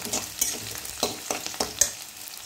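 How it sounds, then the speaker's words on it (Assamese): Onion, dried chilli and bay leaf fry in oil in a wok, a steady close sizzle broken by repeated scraping stir strokes. "মই কেৰাহীত তেল বহাই শুকান জলকীয়া, তেজপাত আৰু পিঁয়াজ ভাজিবলৈ দিলোঁ"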